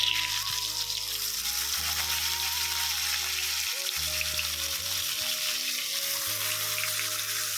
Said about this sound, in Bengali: তেলটা এবার গরম হয়ে গেছে, আর আমার মা একে একে শুকনো মাছগুলো সব ছেড়ে দিয়েছে